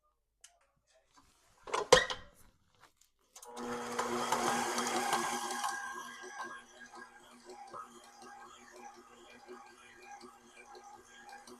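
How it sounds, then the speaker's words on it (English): A stand mixer kneads flaxseed bread dough made with whole wheat flour, starting after a clatter with a loud whirring hum that settles into a steady, quieter rhythmic churn. "We are going to use our a stand mixer and we're gonna knead it for about 7 to 8 minutes."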